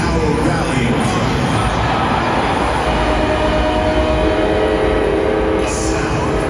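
Train horn rally sound blaring through the Atlanta Falcons' Mercedes-Benz Stadium during an NFL game, a loud continuous blast over steady crowd roar.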